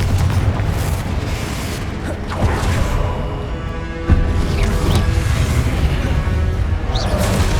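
Confringo fire spell blast in the Hogwarts Legacy video game: dense, loud booming and crashing game audio with a sharp impact near the middle, sustained rumble throughout.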